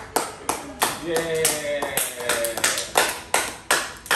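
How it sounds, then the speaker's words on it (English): About a dozen sharp, separate claps from a small group sound close by at a six-year-old's birthday, cheering a girl who wants to be a nurse, while a voice speaks briefly over them. "Everybody clap for her."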